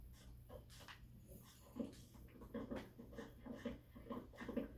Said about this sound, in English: I need to give this dog more love.